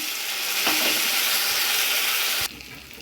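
Chopped tomato hits hot oil with onions that are already fried red in a pan for ghugni, giving a loud, steady sizzle and frying hiss that drops away sharply near the end.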